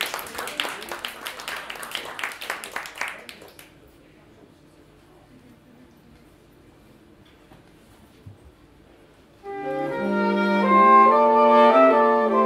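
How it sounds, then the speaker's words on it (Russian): Audience applause at a saxophone quartet concert: about three seconds of dense, lively clapping that stops abruptly. A long quiet pause follows, then saxophones start playing together. "Итак, под ваши бурные аплодисменты."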